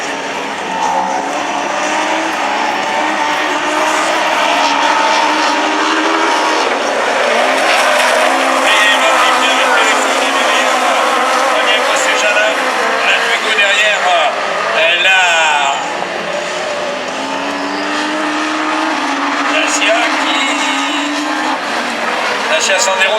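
Ford Puma rallycross car racing in a Super 1600 rallycross event at Châteauroux, engines roaring loudly and continuously with brief tire squeals, under steady commentary.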